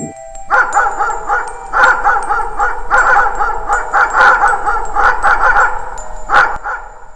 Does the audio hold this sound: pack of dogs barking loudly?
yes